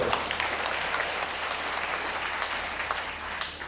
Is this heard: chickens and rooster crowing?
no